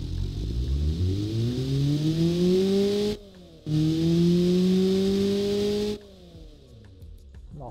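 A Honda D16V1 engine with a muffler revving up twice, rising strained pitch in long pulls with a brief drop between, close and loud with no talking.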